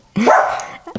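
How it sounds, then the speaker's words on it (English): A puppy outdoors gives one sharp bark followed by a short yip, both fairly loud and close, with no voices. "It's just a puppy outside."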